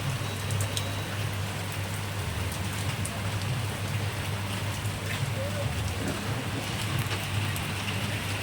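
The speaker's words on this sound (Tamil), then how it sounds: "கோடை மழை பெஞ்சிட்ருக்கு." Summer rain falls in a steady, even hiss close by, with scattered drop patter throughout and no voices.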